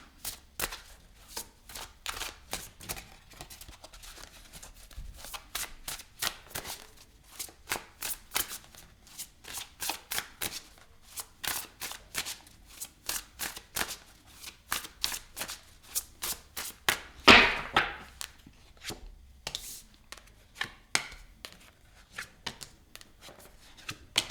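Tarot cards shuffled by hand in quick, rapid riffles and soft clacks, repeating steadily for about twenty-four seconds, close and fairly quiet, with one sharper snap near the end and no talking.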